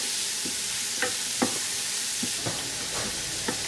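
Finely chopped onion sautéing in a pan for a spinach and cheese curry, a steady close sizzle with a few soft stirring scrapes spaced through it, no voices.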